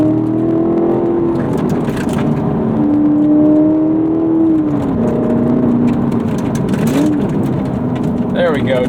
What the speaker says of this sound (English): Just harder jab on the throttle, and we have a good rev match.